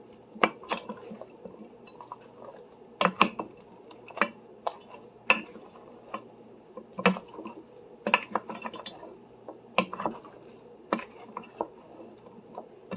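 A utensil clinks and scrapes against a dish while breakfast ingredients are mixed with waffle fries, giving irregular sharp taps and clatters over a quiet background for about thirteen seconds, close and with no talking.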